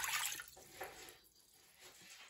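A pint of water tipped from a container into a frying pan on an induction hob, a brief close splash and pour at the start that fades into quieter trickling and drips.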